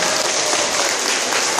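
Steady crowd applause rings out for a child at a Lenten retreat gathering in a church setting, dense and continuous clapping filling the space throughout, close and fairly loud.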